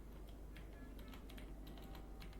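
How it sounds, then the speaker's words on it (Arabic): Soft, steady clicking of keys on a computer keyboard as text is typed in a quiet room, the taps irregular and close, with no voices. "هبدأ اكتب هنا تكست"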